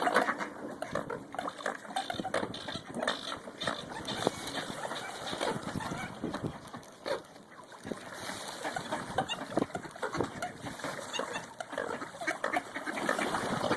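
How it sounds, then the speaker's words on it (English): A female wood duck calls on a lake at Santee Lakes, her cries mixed into a busy, rustling outdoor background that continues steadily throughout. "Oh, the wood duck, the female wood duck."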